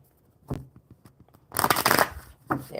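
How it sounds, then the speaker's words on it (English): Tarot cards being shuffled by hand in a quiet room: a few soft taps and riffles, then a dense, louder burst of flapping card noise, followed by another short shuffle. "One more good shuffle, Bobby."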